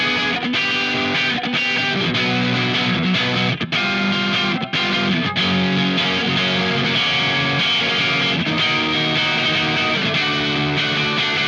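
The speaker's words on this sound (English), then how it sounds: "I'll play it through slowly so you can see the changes in the strum pattern" A distorted electric guitar slowly strums the verse pattern of Incubus's "Rogues", loud and continuous with steady rhythmic chord changes and no talking.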